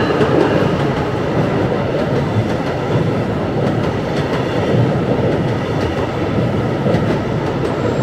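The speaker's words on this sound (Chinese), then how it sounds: "The train's coming!" A train rolls steadily past at close range on a rail line along a riverwalk by a lift bridge in Fort Lauderdale, its loud, continuous rumble and clatter filling the entire stretch without pause.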